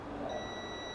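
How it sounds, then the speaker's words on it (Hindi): A multimeter set to continuity mode buzzes while probing pins of a regulator IC on an electric vehicle charger board, giving a steady high electronic tone that holds throughout, close and clear. "बजर पे कर देता हूँ मीटर को"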